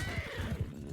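A horse neighs in the Mount & Blade II: Bannerlord battle, a loud shrill whinny over rhythmic low hoof thuds, brief and close.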